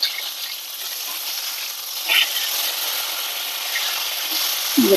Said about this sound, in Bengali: লাল লাল করে মাছটা ভেজে নিচ্ছি